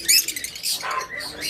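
A creamino Fischer's lovebird calls in a short burst of sharp, high chirps, close and loud, lasting little more than a second.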